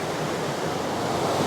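Water pours down at a waterfall, a loud, steady, close rushing roar with no pauses.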